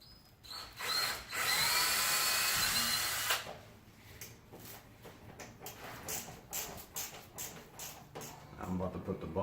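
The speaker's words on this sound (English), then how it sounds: "I'm gonna pre-drill this" Power drill pre-drilling screw holes in a homemade rod pod kit: a loud, sustained whine for about three seconds, then scattered knocks and handling clatter, with someone talking between the bursts.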